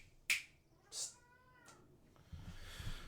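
Kitten meowing indoors at a gaming desk, a few short, high, separate meows followed by faint shuffling and background noise, fairly close but quiet.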